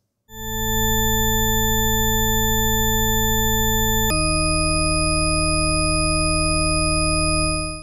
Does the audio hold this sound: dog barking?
no